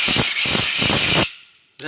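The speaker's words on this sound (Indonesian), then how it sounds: "kemudian kita semprot dari sini angin ya" Compressed air sprays onto a motorcycle engine valve during a valve-seat leak test, giving a loud, steady hiss with a few pulsing bursts for over a second before cutting off, then a brief faint blip.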